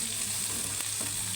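Small onions and curry leaves sautéing in a pan for a mutton kulambu, giving a soft, steady sizzle and crackle that runs continuously and fairly quietly, with no voices.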